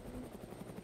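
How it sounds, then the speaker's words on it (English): Video game helicopter heard as a brief, faint, low rotor thump, rhythmic and distant, lasting under a second. "We got the helos coming."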